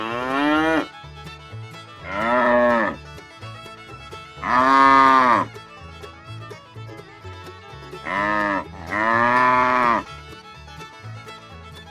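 Cattle on a farm moo loudly and close by in five drawn-out calls, some long and some short, spread across the stretch with quiet gaps between them.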